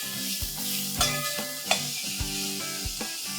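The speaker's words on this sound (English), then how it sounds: "It's 1 whole chopped onion, large one, and cook it on slow fire." A large chopped onion sizzles over low heat in a pan with little oil, a steady frying hiss broken by regular scraping stirs of a spoon, no voices.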